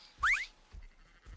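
A single short sheep bleat in the video game Red Dead Redemption 2 rises clearly for a moment, followed by a couple of soft low thumps.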